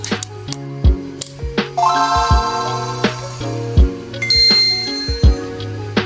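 A bright, chiming electronic jingle of bell-like tones and bouncy bass notes from a Game Boy Advance handheld console, playing a short melodic tune.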